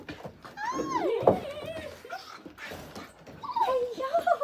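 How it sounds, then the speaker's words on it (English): A puppy whimpering and whining in rising and falling high-pitched cries, close by, mixed with a person's cooing voice during training. "Dog speeds over, treats on the ground."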